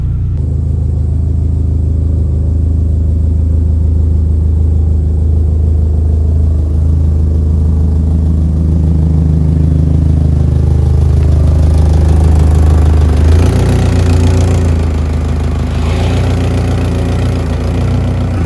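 A Toyota Camry engine with a small exhaust hole idling, a loud steady low rumble close by that swells briefly as if lightly revved, with no talking.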